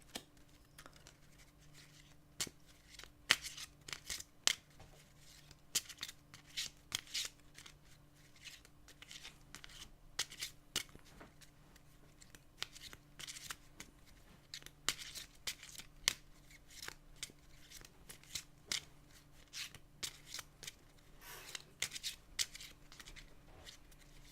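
Oracle cards being shuffled and cut by hand for a draw in a quiet room, a series of soft crisp riffles and slaps with irregular rhythm, close and fairly faint, with no talking.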